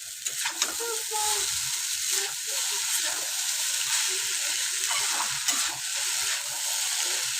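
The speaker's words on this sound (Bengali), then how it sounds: "তো চলো আমি চাউমিনটা ভেজে নিই" Chowmein noodles crackle and hiss as they are stir-fried in a pan, a continuous close sizzle broken by clattering tosses and stirring scrapes.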